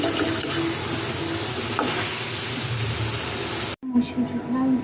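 Spices frying and being stirred in a pan for a Bengali home-cooked meal, a steady close sizzle with scraping, a brief cut near the end, then the frying resumes.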